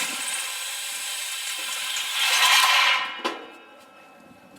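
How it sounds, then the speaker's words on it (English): A power drill bores out a stuck soft metal screw in a garage build, a steady whirring grind that swells louder midway, then a sharp click as it breaks through and the motor winds down. "so this time I'm just going to drill it out"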